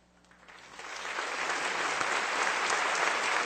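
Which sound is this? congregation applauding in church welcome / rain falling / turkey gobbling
congregation applauding in church welcome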